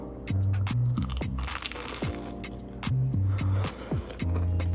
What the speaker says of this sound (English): I air fried 2 spring rolls, there's some cabbage from last night, and some salmon. Are we ready for this crunch?